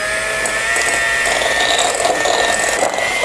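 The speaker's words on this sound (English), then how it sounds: "we will cream the brown sugar with our mixer so it's nice and smooth" Electric mixer creaming brown sugar for homemade fig bars, a continuous whirring motor with a scraping, grinding texture that rises and falls as the beaters churn the sugar.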